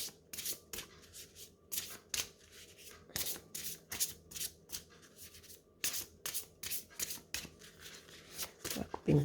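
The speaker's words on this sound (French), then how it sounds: "On va couper une première fois." A deck of oracle cards is shuffled and cut by hand, giving a rapid series of crisp riffling and sliding bursts with short gaps between them, close and fairly quiet.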